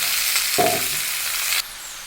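Ash gourd frying in oil with dried red chilli, five-spice seeds, bay leaf and a little salt, a loud close sizzle that swells as something is stirred in, then drops to a quieter steady crackle.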